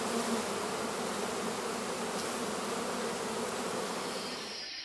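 Dense, steady buzzing of many honeybees at a bee farm raising queens for royal jelly, a continuous close swarm hum with no voices.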